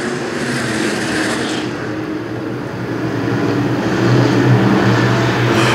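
Race cars roll off two by two under green at Shelby County Speedway, a steady droning roar of many engines that swells and builds as the field accelerates, with no one talking.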